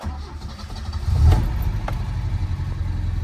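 A 1969 Alfa Romeo Giulia Super 1.6 engine cranks close by, fires and catches, then settles into a steady, even idle that runs to the end.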